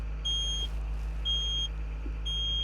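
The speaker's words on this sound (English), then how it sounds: "You will now hear a slow beeping." Slow electronic beeping from a Komatsu excavator's pin grabber quick coupler as its rear wedge unlocks and retracts: three steady tones repeat about once a second over a constant low engine drone.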